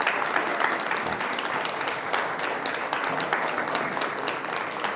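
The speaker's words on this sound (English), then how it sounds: "Can we give a round of applause for both candidates tonight?" Audience at a county executive candidate forum applauding the candidates, a steady, full burst of clapping from many hands sustained throughout.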